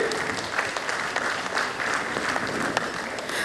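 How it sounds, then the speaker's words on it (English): At a medical college convocation, the audience gives a sustained, even round of applause for the parents, dense clapping filling the hall without pause. "I want everyone to give a big round of applause for each parent out here"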